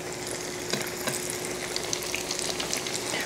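Fried apple pies bubble and sizzle in hot frying oil, a close, steady crackle with scattered pops and a faint background hum, no voices.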